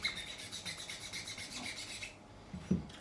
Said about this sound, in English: I'm just going to get the rough shape and width with a file,